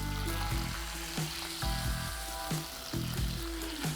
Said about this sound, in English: what we are trying to do is to fry this until the bacon is nice and crispy